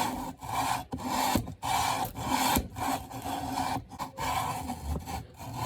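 Steady rhythmic rubbing of a lapping bar inside SDI scope rings, a gritty back-and-forth scrape repeating in close strokes with brief pauses between passes, close and alone without voices.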